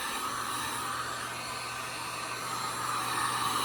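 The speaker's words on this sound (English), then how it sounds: "If you don't have a heat gun in your shop, speeding this up, you're doing something wrong" A shop heat gun blows hot air over fresh brown camo base coat on a Crosman F4 air rifle, a steady close roaring hiss that stays level throughout with no voices.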